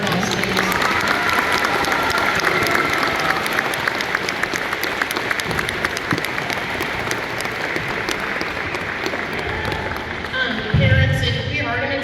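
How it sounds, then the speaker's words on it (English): Loud, sustained audience clapping fills a school spring band concert for a full twelve seconds, dense and close, with some crowd noise mixed in and a brief louder burst near the end. "Give those kids a round of applause, please."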